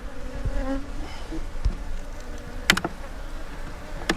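Honey bees drone inside their hive during an autumn inspection, a continuous close buzz with a few sharp clicks near the end.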